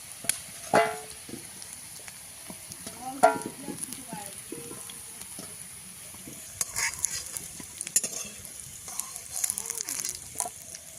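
Bata fish sizzles softly in oil while a utensil scrapes and clanks against the pan in irregular bursts, close up, without talking.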